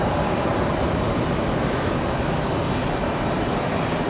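A jet airliner, Public Airways flight 4687 bound for LaGuardia, departs Raleigh-Durham airport, its engines making a steady, loud broadband roar that holds without letup and has no voices over it.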